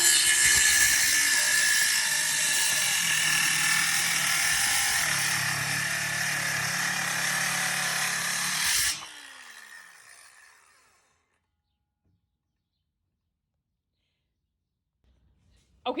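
A circular saw makes a 45-degree cut, loud and close. It runs steadily for about nine seconds, then stops abruptly and winds down into silence.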